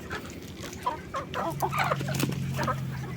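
Kabir chickens cluck in short, overlapping bursts before feeding, with a low steady tone entering midway; the birds sound close and moderately loud.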